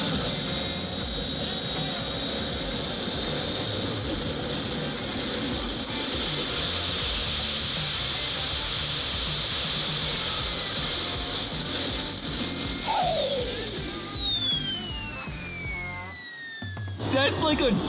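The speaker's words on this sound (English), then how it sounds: "hopefully Mike's reaction will give you an idea of what it's like to hear this jet engine in person." A jet engine mounted on a homemade wagon roars loud and close, a steady high whine over dense rumble for the whole span, its pitch rising and then falling away near the end.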